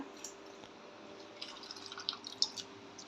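Boiled meal maker soy chunks drained and rinsed under cold water, giving a steady close trickle with scattered drips and small splashes, a few sharper splatters near the end.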